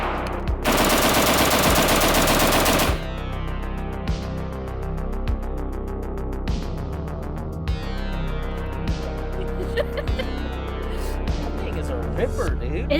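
A PWS MK116 MOD2 AR-15 rifle in 7.62x39 fires a fast, loud burst of shots, followed by a string of sharp single shots with echo trailing off between them; people talk during the shooting.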